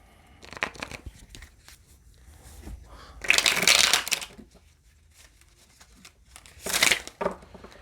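Tarot cards riffle and snap in two loud bursts of shuffling, separated by softer flicks and taps as cards are handled and laid down on a table, close by with no talk.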